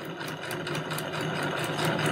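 A sewing machine runs a triple stitch to attach folded bias binding along the edge of knitted fabric, giving a fast, even mechanical whir with a regular stitching pulse, close and continuous.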